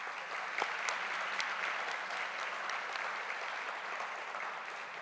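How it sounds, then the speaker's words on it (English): An audience at a school district teacher-of-the-year gala applauds its community partners with steady, sustained clapping, a dense even wash of many hands at moderate distance. "Let's give one more round of applause to these community partners."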